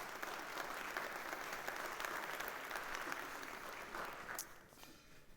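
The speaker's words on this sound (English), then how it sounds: "everyone give them a round of applause." A round of applause from a conference audience at Abarca Forward 2024, dense steady clapping filling the room for several seconds before tapering off abruptly.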